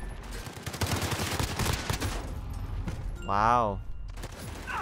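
MP5 gunfire in Call of Duty rattles in rapid bursts, loud and close, followed by a short exclaimed voice.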